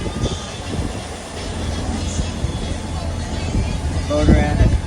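A sailboat's engine drones steadily at about 2,600 RPM while motor sailing, a continuous low rumble with wind noise and voices on board over it.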